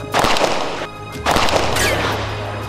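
Rifle fire during military firing practice: two sharp, loud gunshot blasts close by, about a second apart, each followed by a brief echoing decay.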